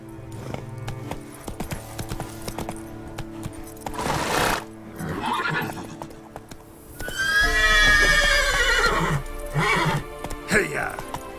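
Roach, the horse in The Witcher 3, trots with clip-clop hooves and lets out a loud, drawn-out neigh midway, with a voice calling out to the horse and game music underneath.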